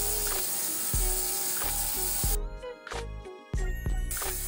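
An ultrasonic cleaner runs with a Yamaha XV 750 carburetor inside, giving a harsh, close rattling and clicking with a steady hiss underneath.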